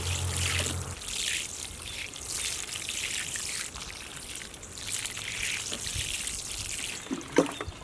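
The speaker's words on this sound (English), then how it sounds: "I'm going to go ahead and water these little plants." Water poured over small bare-root strawberry plants in a container strawberry tower, a steady soft trickle and splash running continuously and close by, with no talking.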